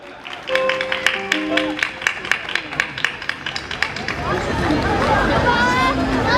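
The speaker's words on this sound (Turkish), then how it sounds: "Onlar için bir alkış daha lütfen." An audience bursts into applause at an evening event for disabled young people, with rhythmic claps in a quick pulse that swell into a dense, sustained wash of clapping and crowd noise.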